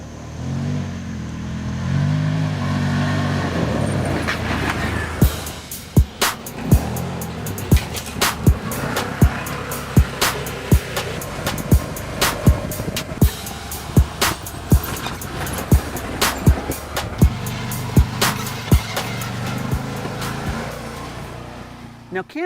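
A Can-Am Defender utility vehicle tears along off-road trails, its engine droning and revving steadily, punctuated by a regular series of sharp clacks and knocks from the rough ground, loud and close throughout.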